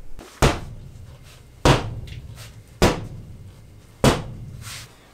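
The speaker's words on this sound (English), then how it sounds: "I kind of already broke through the poly. Sledgehammer is not discreet enough." A sledgehammer strikes through a wall inside a house during demolition, landing four heavy, evenly spaced blows about a second apart. Each hit is loud and close, with a sharp crack that fades into crumbling debris.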